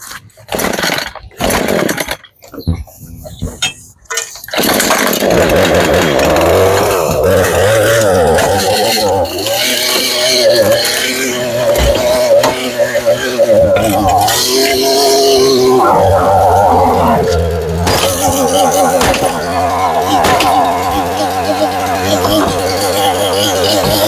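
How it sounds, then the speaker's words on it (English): A chainsaw is cold-started with the choke on: a few sharp pull-cord rasps, then the engine catches and runs loud and steady at close range, its pitch rising and falling with the throttle. "I'm going to do a cold start. Got the choke on."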